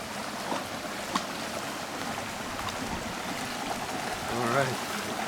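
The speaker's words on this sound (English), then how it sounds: "here we go on this little creek" Small mountain creek in the Colorado Rocky Mountains flowing steadily, a continuous close rushing and trickling wash of water with a short brighter splash near the end.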